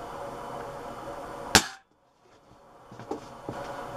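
A Webley Hawk Mk3 break-barrel airgun fires a 14.5 gram pellet in one sharp, loud crack, then brief silence and a couple of faint clicks and knocks.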